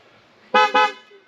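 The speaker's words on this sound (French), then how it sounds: "j'ai fait klaxonner à distance" An electric car's horn, triggered remotely from a phone app, gives two short, loud honks in quick succession, close by and otherwise quiet.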